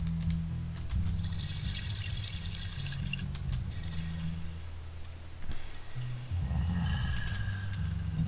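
A shower runs in the survival horror game They Don't Sleep, a continuous loud spray of falling water with a low rumble underneath that briefly drops off midway and then resumes.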